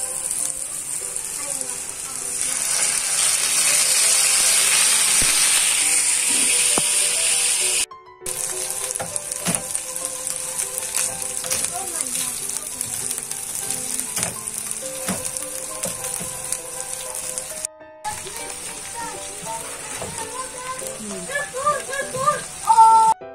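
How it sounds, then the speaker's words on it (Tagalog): Spanish sardine sauce poured into a hot pan bursts into a loud, steady sizzle with a hissing, watery frying texture. It eases into softer crackling and clatter while a voice speaks over it. "Ilalagay na po natin yung sauce ng Spanish sardines."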